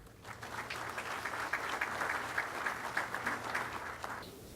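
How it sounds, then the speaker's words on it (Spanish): An audience at a conference on emerging markets gives a speaker a warm welcome with sustained, dense applause for about four seconds, rising quickly and then stopping cleanly. "recibiéndolo con un fuerte aplauso."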